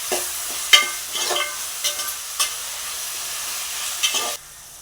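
Onions, tomatoes and crushed garlic sautéing in a pan for a dry fish curry, giving a soft continuous sizzle with a few stirring taps and scrapes before it cuts off near the end.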